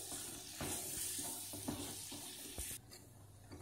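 Ground chana dal being stirred into upma in a pan, a low scraping and stirring with faint sizzle and watery bubbling underneath, steady and close throughout with no voices.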